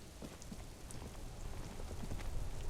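Steady rain falling in the Disco Elysium video game, a soft continuous patter on a surface with scattered droplet ticks, moderately quiet and alone without talk.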